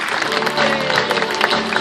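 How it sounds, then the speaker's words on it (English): Audience applause at a sea lion show at Pleasurewood Hills amusement park: dense, steady clapping from a crowd mixed with a voice and faint tonal background. "give her a big clap."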